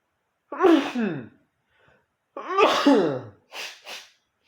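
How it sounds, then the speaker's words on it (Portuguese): Two loud, close sneezes about two seconds apart, the second followed by a couple of short breathy exhales. "Peraí, deixa eu espirrar."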